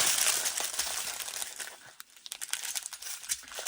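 Scissors snip through plastic diamond painting bags, making loud crinkling and rustling of close-up plastic followed by a run of short, crisp snips and crackles, with no talking.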